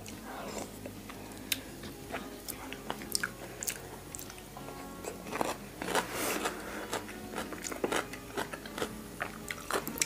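Someone eats a crunchy Thai salad of red radish, carrot and crab sauce by hand, making close, wet chewing and sharp crunching bites at irregular intervals, with faint talk in the background.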